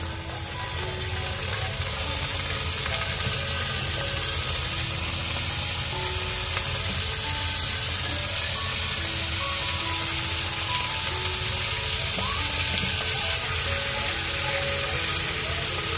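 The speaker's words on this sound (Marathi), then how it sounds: "तर आता मी फ्राय करायला घेते." Bombay duck (bombil) fish coated in semolina, salt and spice masala fries in a pan with a steady, dense sizzle and crackle that holds at an even level throughout, with no talking.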